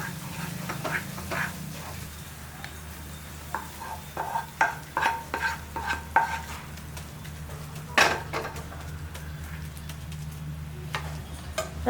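Clinking and scraping of a utensil stirring coconut and sugar burfi mixture in a pot, with irregular taps and knocks over a low steady hum, no voices.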